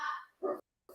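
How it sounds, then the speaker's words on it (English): A dog indoors gives two or three short, sharp barks, close and fairly loud, separated by a brief moment of silence. "Oh, this dog."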